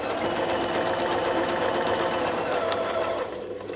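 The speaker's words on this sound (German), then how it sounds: "Und wir nähen einen neuen Bogen." A sewing machine stitches a quilt arc along a circle ruler template, a fast steady mechanical whir with rapid needle ticks, close and continuous before easing slightly at the end.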